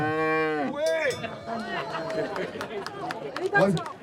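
A cow at a French farmers' protest lets out one long, loud moo up front, followed by busy crowd chatter, shouting and clanking for the rest.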